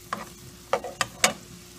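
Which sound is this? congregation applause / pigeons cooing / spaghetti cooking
spaghetti cooking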